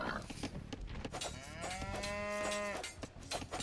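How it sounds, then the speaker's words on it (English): A cow in the video game Age of Empires II: Definitive Edition lets out one long, clear moo that rises and then trails off, heard over faint game background sounds. "I see how many cows a lot of people have"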